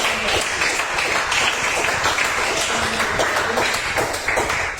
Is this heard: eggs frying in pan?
no